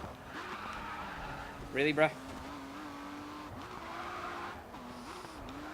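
A racing car in GRID 2 skids with a short burst of tyre noise and a brief impact near the middle, over a steady engine drone. Someone speaks briefly.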